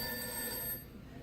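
Telephone bell ringing for a radio call-in show, a steady electronic ring that holds for most of a second and then cuts off into quiet line noise.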